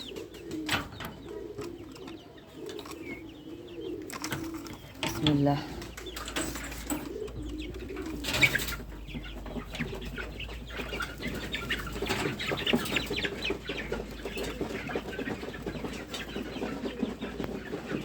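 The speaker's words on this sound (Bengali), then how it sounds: "এখন আমি মুরগিগুলো ছাড়বো গেটটা খুলে দিব তারপর দেখেন কী হয়" Chickens released from a coop on a poultry farm cluck and flap their wings, with bursts of wing beats and cooing-like calls over steady farmyard background and some voices.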